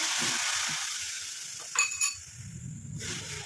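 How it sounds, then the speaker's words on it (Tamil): Juice poured slowly into a hot herbal hair dye mixture of leaves, flowers and fruit, giving a soft, steady sizzle and hiss close up, with a few faint clinks partway through. "நம்ம எடுத்து வச்சிருக்க இந்த ஜூஸை வந்து இதில் ஆட் பண்ணிக்கலாம்"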